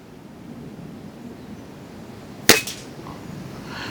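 A single sharp air rifle shot cracks out during outdoor hunter field target shooting at a 40-yard lane, one close report with a short tail, then steady breezy background noise.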